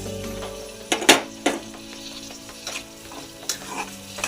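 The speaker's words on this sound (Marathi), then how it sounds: "टोमॅटो मऊ होईपर्यंत, शिजूपर्यंत परतून घेऊ" Tomatoes and onions sauté in a pan for palak paneer, with a close, steady sizzle and several brisk scraping stirs of a spoon, the loudest clustered early on.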